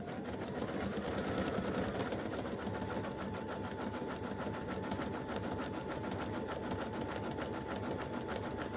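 A machine embroiderer stitches out 'Boo' letters for an in-the-hoop stand or hanging display, a steady, fast, close mechanical whir with a rapid needle rhythm running evenly throughout.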